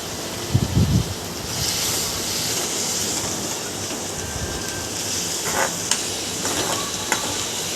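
Steady hiss of onions sizzling with salt in a hot pan, with a few soft stirring scrapes and clicks over the constant frying noise.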